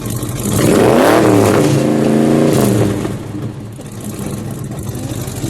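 Engine of a 1979 Dodge Li'l Red Express pickup with a 360 cubic-inch V8 revs up loud and close through its exhaust stacks, holding a throaty roar for about two seconds before falling back to a rumbling idle.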